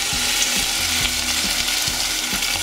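Chopped tomatoes hit a hot pan and sizzle steadily, a dense broadband frying hiss with faint rhythmic stirring knocks underneath, close and continuous with no talking.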